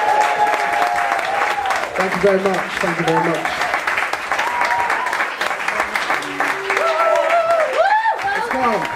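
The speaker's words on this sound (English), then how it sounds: "A round of applause, please," An audience at a poetry slam applauds for the poets, a steady loud clapping with cheers rising and falling while someone speaks thanks over it.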